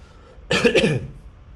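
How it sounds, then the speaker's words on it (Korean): A single short, harsh cough burst lasting about half a second, close by, against a quiet background. "기침이 나서"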